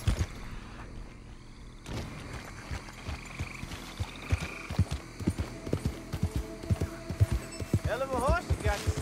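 Horse hooves clip-clopping in Red Dead Redemption 2, a steady rhythmic trot of close, distinct hoofbeats running through most of the clip over game ambience and music, with a brief whinny near the end.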